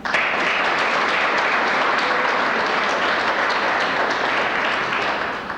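Applause from the audience at a leadership awards ceremony for an award recipient, a full, continuous burst of many hands clapping at steady volume that tapers slightly at the end.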